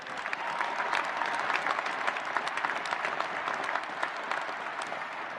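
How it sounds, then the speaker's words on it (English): An audience applauds at the 2019 United States Air Force Academy graduation ceremony, a broad, even roar of many clapping hands sustained throughout at steady volume. "We applaud and salute you all."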